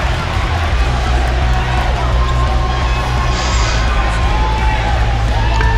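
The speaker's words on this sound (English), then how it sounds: "the crowd showing their affection for Kyle Young" A wrestling crowd cheering at a live match, a loud, continuous roar of shouts and applause filling the space, with a voice talking over it.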